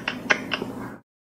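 A human voice imitates a cat's meow over a telephone line, three short nasal meow-like calls in quick succession, fairly close and alone before the line cuts off.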